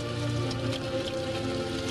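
Heavy rain falling outdoors, a dense, steady hiss of drops pattering on surfaces that holds at a constant loud level throughout, with no voices.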